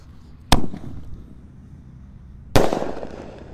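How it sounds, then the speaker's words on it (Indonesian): Lang emas firecracker going off twice, a sharp close bang followed two seconds later by a second louder burst with a brief crackling tail, quiet in between. "Lanjut yang kita nyalakan, di sini ada mercon lang emas. Ini beledosnya 2 kali ya, di bawah dan di atas."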